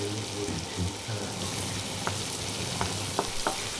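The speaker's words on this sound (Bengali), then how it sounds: "এবার আমি এটাকে ভালো করে নেড়ে চেড়ে নিচ্ছি" Hakka noodles and Manchurian sizzle in a hot pan as they are stirred, with a constant close frying hiss and a few light clinks of the spatula, no voices.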